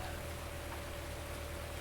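Steady rain ambience in Farming Simulator 19, a dense constant patter of drops on surfaces with a faint background hum, no breaks.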